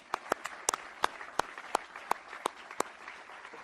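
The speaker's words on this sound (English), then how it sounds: "Please congratulate them again with a round of applause" A round of applause at an awards ceremony: a sparse scatter of individual sharp claps from a small crowd, irregular and fairly quiet, with no talking over it.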